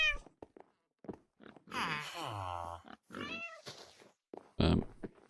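Several cat meows from the Minecraft video game, short mewing calls spread across the clip with one loud, close meow near the end, mixed with brief talk and other game sounds.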